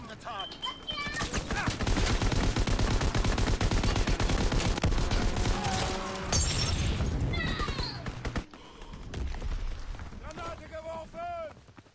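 A Call of Duty WW2 fighter pilot's strafing run unleashes rapid, dense bursts of loud gunfire with shattering impacts for several seconds, then tapers into scattered shots and whistling debris as a voice speaks over it.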